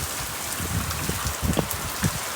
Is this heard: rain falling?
yes